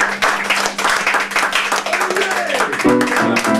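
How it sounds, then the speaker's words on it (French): An audience in a hall applauds with dense, fairly loud clapping over several seconds, while voices and faint music mix in near the end. "Et on peut l'applaudir pour ça déjà aussi."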